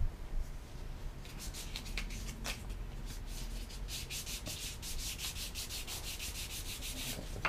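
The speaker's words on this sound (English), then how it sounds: "the 400 grit's about done" Close, steady rubbing of 400 grit sandpaper over a wooden spoon, with fast back-and-forth strokes that continue without pause and no voices.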